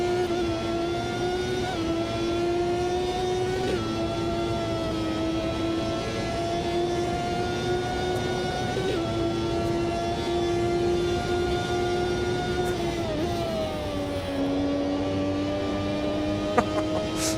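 A 1990-era Ferrari Formula 1 car racing at Montreal in the Automobilista 2 video game, its engine holding a loud, high, continuous whine down a straight, with pitch shifting slightly as it changes gear, plus faint bumps from curbs.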